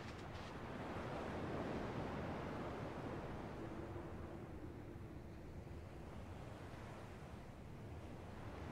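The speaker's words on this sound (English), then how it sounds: "At least the waves sound the same." Ocean waves surge and wash in the video game Kingdom Hearts II, a steady rolling surf with a breezy rush that stays loud and continuous throughout, with no voices.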